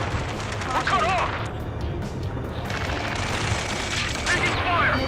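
Gunfire and explosions in Ace Combat 7 during a battle near a space elevator, continuous dense rumbling fire with booms, mixed with radio chatter and warning tones.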